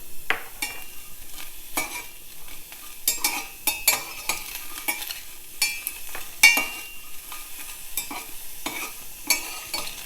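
Onion frying in a pan with mustard seeds, sharp irregular pops and crackles over a thin sizzle, with frequent stirring scrapes, no talking.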